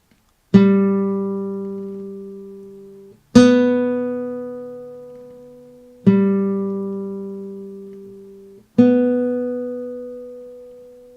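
Four plucked guitar notes, each ringing out and slowly decaying before the next, played slowly and evenly at close range with no talking.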